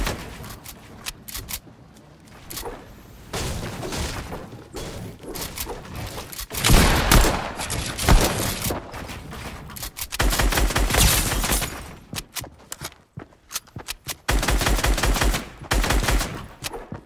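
Repeated pump shotgun blasts and other gunfire in the battle royale game Fortnite, sharp loud bursts in several clusters with short gaps between them.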